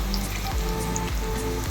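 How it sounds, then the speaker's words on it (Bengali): Pointed gourd (kakrol) frying in hot oil, a dense continuous sizzle with faint crackles, close and steady throughout the short stretch without talk. "তেল গরম হয়ে গেছে, কাঁকরোল দিয়ে নিচ্ছি।"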